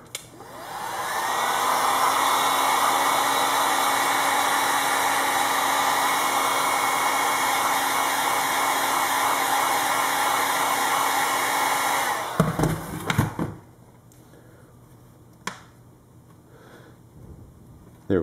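A heat gun blows a steady, loud whooshing roar onto a Kydex sheet for bending. It runs for about twelve seconds, then cuts off, leaving a few light handling knocks in near quiet.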